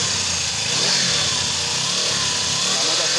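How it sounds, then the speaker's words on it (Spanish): A Suzuki GS motorcycle engine revs close by, holding a steady, loud drone throughout with no voices. "La moto acelera muy bien."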